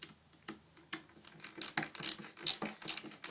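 Skateboard truck nuts being tightened give off a run of crisp ratcheting clicks in uneven bursts, close up and growing louder toward the end, with no voices.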